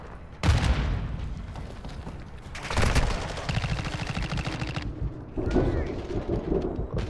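Gunfire bursts and a grenade-like boom in a Call of Duty match, loud repeated shots and blasts in short clusters with game noise between them.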